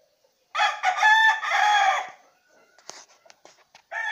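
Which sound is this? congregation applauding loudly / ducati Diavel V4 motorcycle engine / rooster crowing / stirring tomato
rooster crowing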